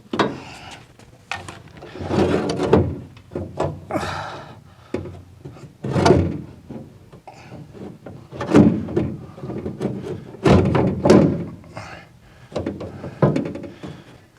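Parts of a 1974 VW Super Beetle convertible door are worked loose while removing the window regulator, making repeated close scraping, rubbing and knocking bursts with short pauses between them.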